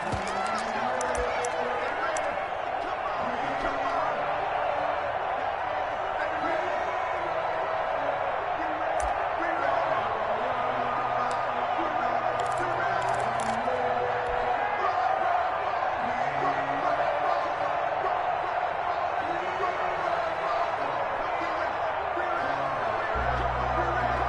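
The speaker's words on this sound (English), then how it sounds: "This crowd is ready as their guys get set to match up between the Chicago Bears and the Washington football team" A video game stadium crowd at an NFL matchup between the Chicago Bears and the Washington Football Team cheers and murmurs steadily throughout, a dense continuous roar with faint commentary talk layered over it.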